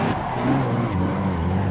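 A drift car in a racing simulator sends out a continuous engine drone with a skidding, tire-scrubbing hiss over it, loud and close for a brief moment.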